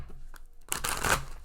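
A brief, close burst of tarot cards being shuffled, a dense papery riffle lasting under a second after a quiet pause.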